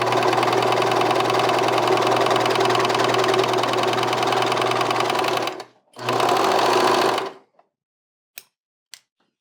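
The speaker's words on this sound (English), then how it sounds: "And now I'm going to keep sewing." A serger sewing machine runs steadily while stitching along a fabric edge, a loud continuous mechanical hum that stops briefly, restarts for a short burst, then cuts off, followed by a couple of faint clicks.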